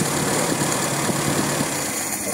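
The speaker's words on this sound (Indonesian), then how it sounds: "Dengar tak bunyi ketek ketek ketek ketek ketek ketek" A small engine with a carburetor idles roughly while a worn tappet valve ticks steadily and quickly throughout, the engine noise close and constant with no talking.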